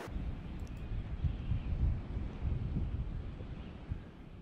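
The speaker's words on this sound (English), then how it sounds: "The wind is just relentless and it comes through the mozzie mesh in the windows." Relentless wind gusting through the mozzie mesh screens of windows, a steady loud low rumbling roar with buffeting surges, no voices.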